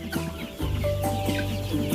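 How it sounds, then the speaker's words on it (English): Several farm chickens cluck busily and loudly close by in an excited, rowdy state, a steady stream of overlapping clucks and squawks. "I don't know what's getting the chickens all rowdy and excited."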